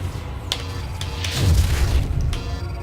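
Weapons fire in Freespace 2 space combat: a few sharp percussive pops around the half-second marks, then a rumbling low boom swell in the middle, over a steady engine-like drone with no talk.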